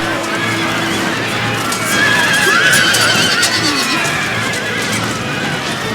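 Cavalry horses in a video game battle between British East India Company forces in India, with loud whinnying neighs over a steady rumble of galloping hooves and battle din.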